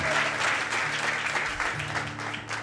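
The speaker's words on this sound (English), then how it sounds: "Give the Lord a good hand clap" A church congregation at an evening service claps hands together in a loud, sustained round of applause, with faint voices underneath.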